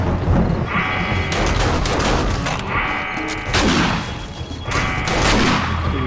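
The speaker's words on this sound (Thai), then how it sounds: "ระเบิด" Grenade explosions and gunfire during a base defence in the zombie survival game 7 Days to Die: repeated loud broadband blasts and bursts of shots roll in about every second and a half over a constant rumbling din.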